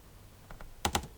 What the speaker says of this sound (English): You can hit spacebar and choose the option.